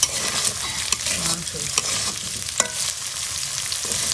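Potatoes for noodles frying in a pan until nearly dry and reddish, a steady close sizzle with repeated stirring scrapes and clinks throughout.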